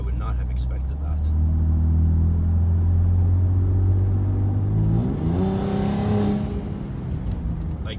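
A truck fitted with aFe equal-length catless downpipes is held at full throttle and heard from inside the cab as a loud, steady droning rumble that climbs in pitch near the end, with someone talking over it.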